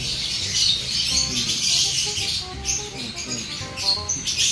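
Small birds chirp and tweet repeatedly in a busy, overlapping chatter at close range, with a low background hum and rustle beneath the calls.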